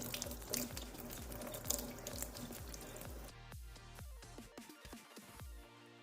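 Makeup brushes rinsed under a running tap, a steady close rush of water with rhythmic swishing strokes, then the flow breaks up into irregular splashes and drips toward the end.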